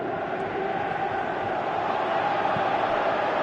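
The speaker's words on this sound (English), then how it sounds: "you can feel and hear how the crowd are reacting to all of this" A dense stadium crowd roars steadily in a Winning Eleven 2018 football video game, a continuous wash of cheering voices without pause.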